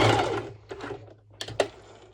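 A sewing machine stitches over a seam on a twisted knot halter-neck crop top, sounding as short uneven bursts of rapid mechanical chatter with brief pauses between.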